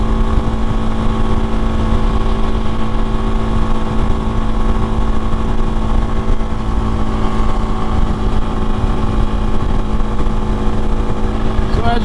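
A Suzuki DRZ400 rally motorcycle with an FMF exhaust drones steadily at around 70, its constant engine note close and loud under buffeting wind noise, with a voice talking over it.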